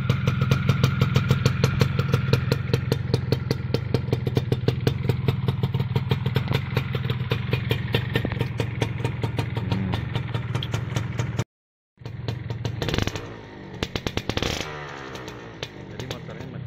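Close, loud Yamaha F1ZR two-stroke motorcycle engine idling with a fast, steady, rattling buzz, briefly cut off, then resuming with some revving and faint voices.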